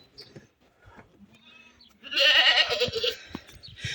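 A goat lets out a loud, wavering bleat at close range, preceded by quieter rustling and faint vocal sounds.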